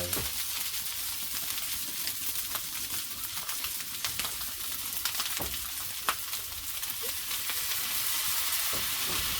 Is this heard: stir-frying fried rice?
yes